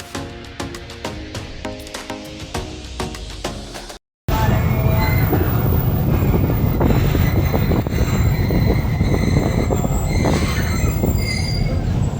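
Rehman Baba Express train wheels on rails, first as rhythmic clicking over the track, then after a brief cut as a loud, steady close rumble with high metallic wheel squeal running throughout.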